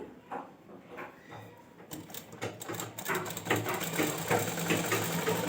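A sewing machine stitches pajama fabric, starting faint and sporadic, then running in a louder, steady mechanical whirr with rapid needle clatter for the last few seconds.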